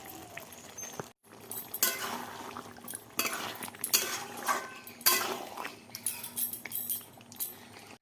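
A spoon scrapes and clinks against a pot while fried meat pieces are stirred into spices, with irregular metallic knocks and scraping near and fairly loud, and no talking.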